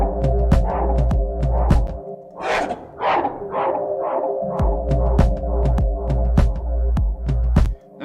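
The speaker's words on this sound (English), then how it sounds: "We're going to desync a high feedback echo with heavy filtering." A backing vocal runs through a dub echo with high feedback and heavy filtering, loud pulsing repeats with smeared, swelling tails over a throbbing beat.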